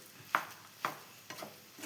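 Tomato rice with coriander leaves is stirred in a pan, giving a few soft, spaced scrapes and clicks of the spoon over a quiet background, with no talking.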